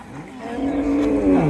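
A cow lets out a single loud, drawn-out moo close by at a cattle market, rising slightly toward the end.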